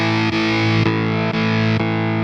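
Distorted electric guitar played through a Carvin amplifier, sustained heavy chords re-struck roughly every half second, loud and dense, alone without talk.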